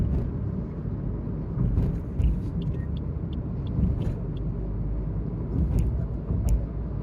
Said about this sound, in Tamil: இந்த எக்ஸ்பான்ஷன் ஜாயின்ஸில் கொஞ்சம் மைல்டாக சவுண்டு கேட்குது